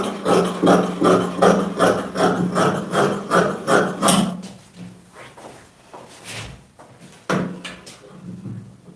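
Scissors cut straight through djellaba fabric in a quick run of rhythmic, close snips, then slow to a few scattered cuts and rustles.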